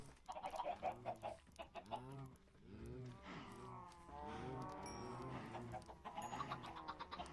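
Chickens cluck on a Minecraft farm, a steady run of overlapping clucks and squawks from a few nearby birds that carries through the whole stretch without any talking.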